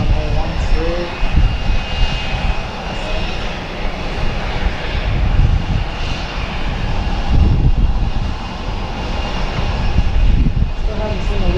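A UPS or FedEx cargo jet taxis across Harrisburg airport toward runway 13 at night, its engines a steady, broad roar at a moderate distance, unbroken for the whole stretch.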